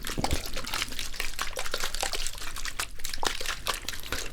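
Water splashes and pours in a continuous rushing stream, close up and fairly loud, with small crinkly clicks mixed in during a barber shop visit.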